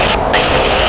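An airliner taking off at LAX, a loud close engine roar with a broad, steady rushing tone held for under a second.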